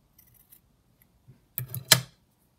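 Scissors snip through lace trim for a sewn pocket, two or three quick close cuts after a near-silent pause.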